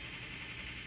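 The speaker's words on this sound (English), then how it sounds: "it's like a gamer PC, so they got a little noise they make when they first turn on" Steady broadband whir of a gaming PC's fans spinning up at power-on, a continuous, even hum and hiss with no breaks, fairly close and moderately quiet, with no one talking.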